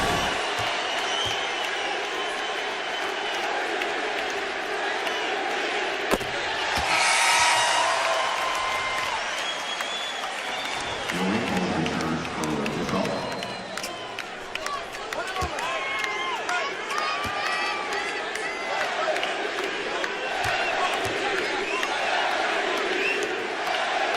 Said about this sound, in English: We'll let you listen to the crowd here at Staples as Kobe comes to the line